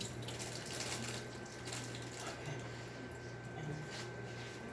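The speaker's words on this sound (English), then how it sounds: "Now I'm going to rinse them off." A kitchen tap runs steadily while fish fillets are rinsed beneath it, giving a continuous moderate splashing hiss with slight shifts as the water hits the fish, with no speech.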